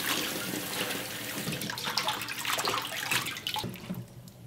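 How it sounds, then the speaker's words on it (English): Cabbage leaves washed under a running kitchen tap, water gushing steadily and splashing, with changes in the flow as the leaves are moved and handled up close. "And this 1 pound of cabbage, we already cut it nicely. And then I'm going to wash this."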